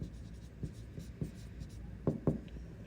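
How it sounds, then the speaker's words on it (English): A pen scratching across paper in short strokes while working out a perimeter problem, close and fairly quiet, with a few firmer marks near the end and no talking. "So I'm just going to write this down."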